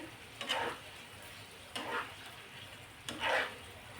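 Fresh cream being stirred into cooked dhaba-style butter chicken, giving three soft, short scraping swirls of a spoon through thick gravy over a faint background hiss, with no talking.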